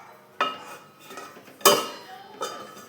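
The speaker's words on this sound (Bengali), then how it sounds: "ঢাকা দিয়ে দিলাম" A lid is set onto a cooking pot in a home kitchen, giving three sharp metallic clanks spaced about a second apart, close and fairly quiet, with no talking.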